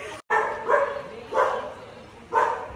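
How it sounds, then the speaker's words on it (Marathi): A dog barks in loud bursts, about four times over a few seconds, fairly close, during a Ganpati festival gathering with faint voices in the background. "कुत्रा भुकायला लागलाय बघा अति भुकत"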